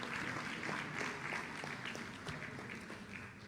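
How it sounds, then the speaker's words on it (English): Audience clapping for a vice president at a formal ceremony, a dense continuous wash of applause heard from some distance, fairly quiet and even throughout, with faint background murmur. "Please let's give him another round of applause."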